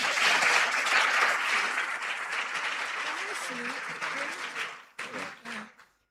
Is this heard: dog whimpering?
no